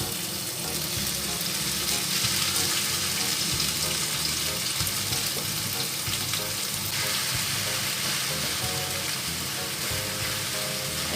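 Beaten eggs poured into a hot pan with about a tablespoon of oil sizzle and crackle steadily, a dense close frying hiss running throughout.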